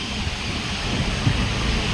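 Rain falls steadily outdoors, a dense, continuous hiss mixed with low wind rumble and buffeting, close and fairly loud throughout.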